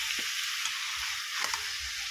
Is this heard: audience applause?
no